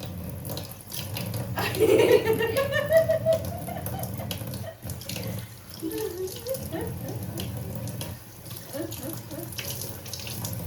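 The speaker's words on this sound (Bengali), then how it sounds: "কল বন্ধ করে দাও, কল বন্ধ করে দাও" Water runs from a household tap into a sink with steady splashing, while several voices talk over it nearby, including a voice.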